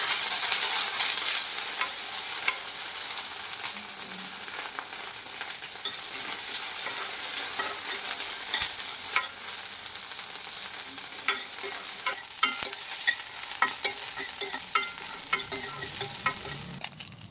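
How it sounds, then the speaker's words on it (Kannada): Green chillies and curry leaves fry in hot oil in a hotel kitchen, giving a steady close hiss with scattered sharp crackles and pops throughout, no voices. "ಸ್ವಲ್ಪ ಎಣ್ಣೆ ಹಾಕ್ಕೊಂಡಿದ್ದೀನಿ ಮೆಣಸಿನ್ಕಾಯಿ ಹುರ್ಕೊಳ್ಳೋದಕ್ಕೆ ಈಗ ಮೆಣಸಿನ್ಕಾಯಿ ಹಾಕ್ಕೊಳ್ತೀನಿ ಕರಿಬೇವು ಇದಿಷ್ಟನ್ನ ಚೆನ್ನಾಗಿ ಹುರ್ಕೋಬೇಕು"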